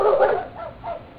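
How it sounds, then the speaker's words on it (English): A dog whimpers and gives short yipping barks in a quick series of high, whiny calls, close by and fairly loud with no talk over it. "Leave the dog alone."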